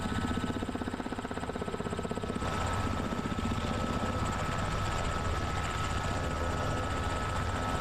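A helicopter hovers in Microsoft Flight Simulator 2024, a steady loud rotor drone with rhythmic blade chop and engine whine, continuous throughout with a slight shift in tone partway.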